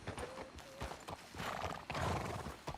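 Horse hooves clip-clopping at a brisk pace in the video game Red Dead Redemption 2, close and loud, with a short neigh and game ambience mixed in.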